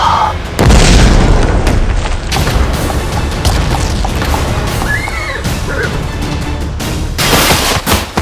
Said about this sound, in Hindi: विस्फोट हुआ है